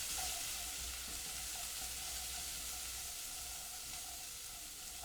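Onions frying in oil in a pan on a stove while being stirred, giving a steady, close, continuous sizzle and hiss that stays level throughout, with no one speaking.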